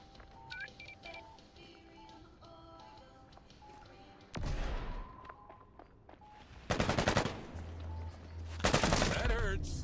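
Video game combat with bursts of rapid automatic gunfire, many bullets in loud sustained volleys, between quieter stretches of electronic beeps and game sounds.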